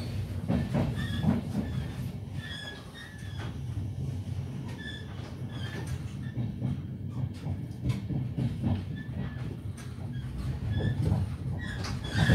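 A Helsinki commuter rail R-line train arriving at Riihimäki station: a steady rumble of wheels on track with rhythmic clicks and thuds from inside the carriage, fairly loud and close, with no voices.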